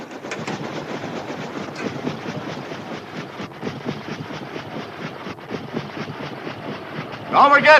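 A 1960s steam train rumbles past with a steady, loud rhythmic clatter of wheels on track, and a brief sharper burst comes right at the end.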